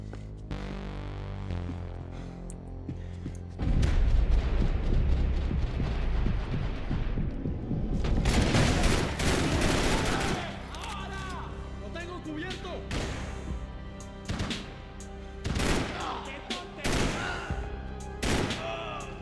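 Max Payne 3 gameplay gunfire sounds in loud, dense bursts, with rapid shots and heavy booming impacts layered over game music and hum.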